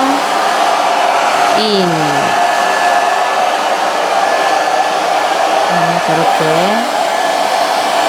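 A hair dryer blow-drying hair into an inward-curled spaniel bob, a loud continuous whooshing hum with slight pitch shifts as it is moved, while someone speaks Korean softly over it.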